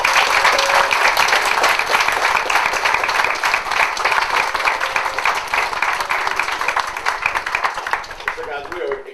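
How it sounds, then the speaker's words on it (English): A city commission meeting audience applauds students with loud, sustained clapping that fills the room for nine seconds and thins toward the end. "So let's give a round of applause to our students."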